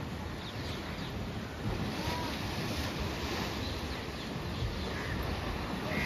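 Water released from Masanjore Dam rushes with strong force, a continuous loud roaring wash mixed with wind buffeting the microphone, steady throughout with slight surges in intensity.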